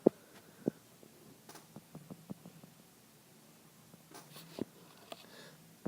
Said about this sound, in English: So let me write that a little bit neater now.